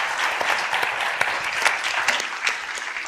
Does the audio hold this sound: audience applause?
yes